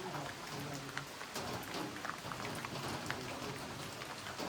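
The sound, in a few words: heavy rain falling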